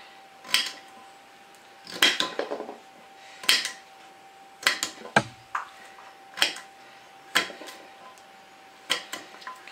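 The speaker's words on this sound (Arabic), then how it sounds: "غادي نقطعها كرويات صغار، نحطها في هذا المستحسن" Knife slicing sweet potato into small cubes on a cutting board, giving a run of sharp, close taps and chops at an irregular rhythm with short pauses, with no talking.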